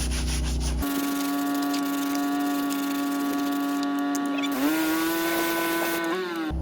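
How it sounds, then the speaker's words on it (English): A stiff, rough bristle brush scrubs a car interior during detailing, making a continuous loud rasping scrub. The tone rises slightly partway through, and a strong steady whine runs underneath. "So we'll go ahead and start off with this rough bristle brush right here. As you can see, you can hear it, it's pretty stiff"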